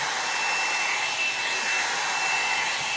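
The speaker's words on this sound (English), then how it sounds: "just hold it away from your head and just let that drying get started" Hair dryer blowing on hair during a volumizing blow-out, a loud, close, constant whoosh with a thin high whine running throughout, no speech.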